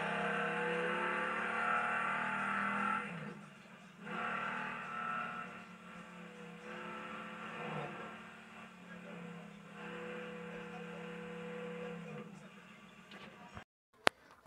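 A fast car in a video game revs and races, its engine whine rising and falling through several gear-like surges before cutting off abruptly near the end, fairly faint and steady in the background.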